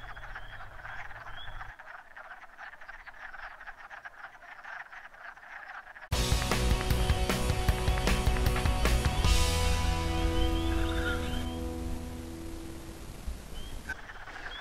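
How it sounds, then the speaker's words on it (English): Wood frogs croak at a vernal pool in a dense, overlapping chorus of clucking calls, faint at first and then suddenly much louder and closer, continuing steadily. "Beautiful animal, wood frog, Lithobates sylvaticus."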